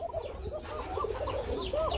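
A pair of pigeons coo nearby, soft repeated throaty warbles with a low hum underneath, no talking.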